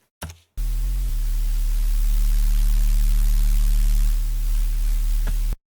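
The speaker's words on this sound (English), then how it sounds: "if we use something like a tube distortion or saturation, as we turn the drive up, we'll start to hear these sounds react" Thick saturated tone stack through tube-style distortion, with steady low harmonic drones and a dense hiss layer sustained loudly for several seconds after a brief opening burst, then cutting off abruptly.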